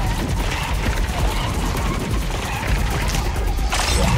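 A heavy gun fires in the video game Kill Knight, a dense continuous barrage of rapid blasts and mechanical clatter, loud and sustained throughout, with a player's voice occasionally over it.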